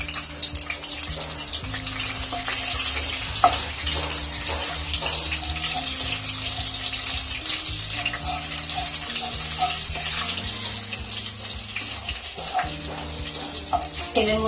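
Bay leaves and whole cumin sizzle in plenty of hot mustard oil in a kadai, a steady broadband crackle running under sustained background music.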